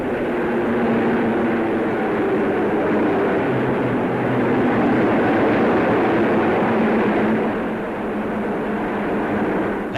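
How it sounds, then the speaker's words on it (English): Meteor jet fighters of Fighter Command fly past in a 1953 RAF flypast, making a steady broad roar that holds at a constant level, slightly distant, with no talk. "Meteors now of Fighter Command."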